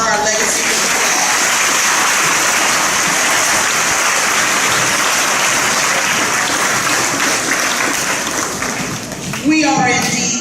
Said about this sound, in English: Let us honor our legacy with applause.